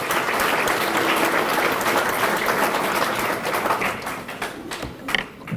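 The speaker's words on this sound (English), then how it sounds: "Let's give Daria a round of applause, please." A banquet audience claps steadily for a scholar, a dense, even wash of applause that holds for about five seconds before breaking into a few last claps.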